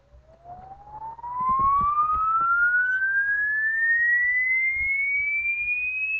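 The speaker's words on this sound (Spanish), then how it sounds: "Vemos que a medida que se aumenta la frecuencia en Hertz, el sonido se hace cada vez más agudo." A pure electronic test tone sweeps smoothly upward in pitch from low to high, loud and steady and heard alone apart from faint low bumps near the start.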